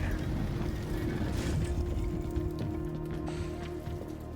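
Rain falls in the video game Blue Prince, a soft, steady patter with low ambient hum, faint and continuous with no talk over it.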